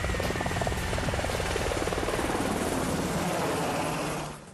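Black Hawk utility military helicopter, a loud close rotor thrum with fast rhythmic blade chopping over a steady engine whine, fading out abruptly at the end.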